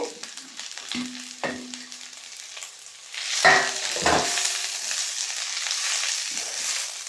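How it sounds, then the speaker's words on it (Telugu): Three kinds of leafy greens frying in oil in a pan for chutney, a steady soft sizzle with a few sharp clicks and scrapes of stirring, close and moderately loud, with no voices. "ఈ 3 కలిసి వేగుతున్నాయి."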